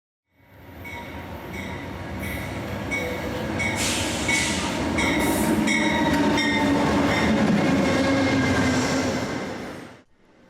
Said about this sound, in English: There's very little as exciting to a rail fan as the arrival of a passenger train.